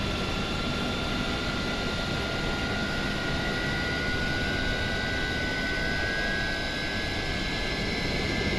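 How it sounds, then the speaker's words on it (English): Steady roar and high whine of a PMDG 777-200ER's two engines spooling up in a flight simulator, heard from outside the aircraft as continuous, dense broadband noise with a tonal whistle throughout. "Should we do a dual engine start from the outside?"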